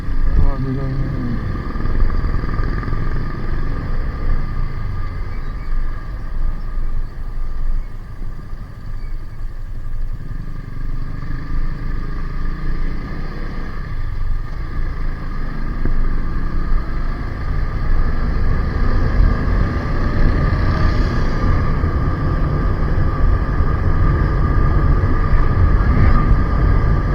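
A motorcycle rides steadily along a road near San Luis, Pampanga, its engine a constant rumble under wind noise, while the rider talks over it throughout.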